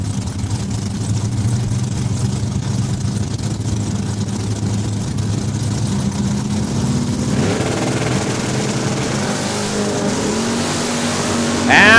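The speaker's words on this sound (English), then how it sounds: "as Johnson out of Outlook gets the head start of 1063 on that Camaro" Drag racing cars, including a Camaro, rumble and roar at Saskatchewan International Raceway, a steady loud engine drone that swells into a harsher launch burst near the end, with a voice talking over it.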